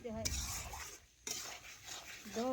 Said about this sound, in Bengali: এ দেখুন নাড়াচাড়া করে ভালোভাবে শুকনো শুকনো করে আমি প্রথমে কষে নেব